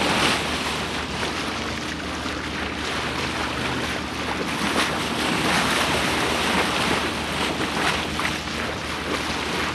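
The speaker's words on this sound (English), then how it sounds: "Got kind of a southwest wind right now." Steady wind rushes over open water with waves washing against the hull of a sailing boat racing an F27 trimaran, the gusty roar and microphone buffeting continuous and close throughout.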